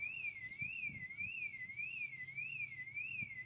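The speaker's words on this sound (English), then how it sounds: "The alarms are sounding." A store alarm at a Walmart wails in an even, repeating rising-and-falling whoop, steady and somewhat distant, with faint low background noise.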